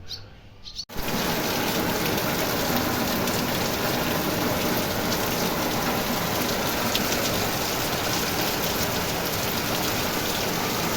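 Rain falls heavily and steadily after a brief quieter moment at the start, a dense close hiss with a few faint bird chirps mixed in.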